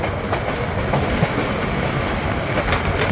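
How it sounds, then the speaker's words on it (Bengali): Suborno Express train on its Chattogram to Dhaka run passing through Akhaura junction, heard from on board as a loud continuous rumble of wheels on rail with faint clacks throughout. "এই মুহূর্তে ট্রেনটি থ্রুপাস করে যাচ্ছে আখাউড়া জংশন রেলওয়ে স্টেশন।"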